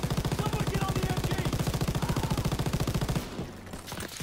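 Rapid automatic gunfire pounds in a Call of Duty WWII battle, a steady rhythmic burst of loud machine-gun shots for about three seconds that then stops, leaving fainter background noise.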